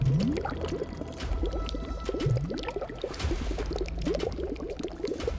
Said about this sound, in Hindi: ये शायद पानी बहने की आवाज थी।